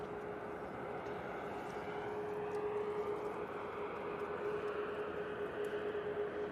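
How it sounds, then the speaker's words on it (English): A Ryanair Boeing 737 Max 8 jet departs from Manchester Airport, heard as a steady, distant engine roar with a faint tonal hum, continuous and fairly quiet throughout. "Another Ryanair on the way out as well."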